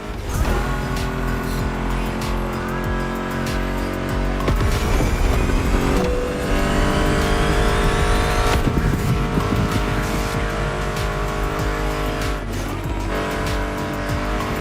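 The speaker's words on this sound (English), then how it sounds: "Meshes well with the sound of the engines, you feel me?" Muscle car engines in the racing game The Crew Motorfest rev loudly and continuously, with tire squeals and skids mixed into a dense, sustained roar.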